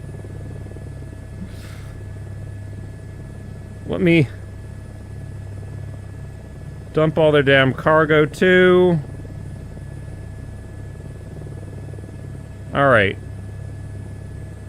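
Steady low rotor drone of a helicopter in a VR flight game running continuously, with someone talking briefly over it at a few points.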